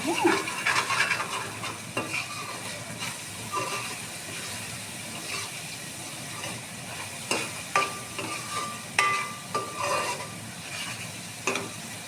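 Spices with coriander powder fry in a pan for a fish dish, a steady sizzle broken by frequent stirring scrapes and metallic taps of the spoon, heard up close without speech.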